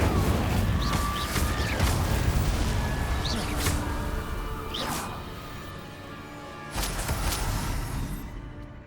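Incendio fire spell cast in the video game Hogwarts Legacy, repeated whooshing bursts and deep booms layered over dense continuous game ambience.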